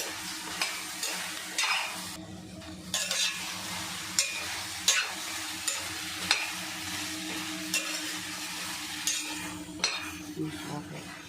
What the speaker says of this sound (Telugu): కొంచెం వేపుకోవాలి బెండకాయ.